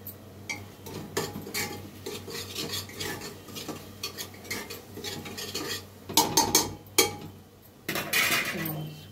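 A metal spoon stirs and scrapes in a pot of potato and tomato curry on a home stove, with irregular clinks and a faint sizzle, growing louder and busier toward the end.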